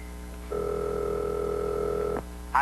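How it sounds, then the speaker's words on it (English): A telephone answering machine gives a steady electronic tone lasting under two seconds, then cuts off, followed by a brief high chirp. "I'm just going to check my phone machine for messages."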